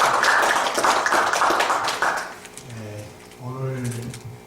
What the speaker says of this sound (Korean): 박수 소리가 너무 작습니다.